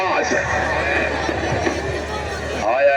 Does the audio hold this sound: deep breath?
no